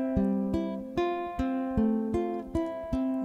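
A ukulele picks out the iconic lick, a simpler arrangement of the motif, with clear plucked notes in an even, steady rhythm played solo and close.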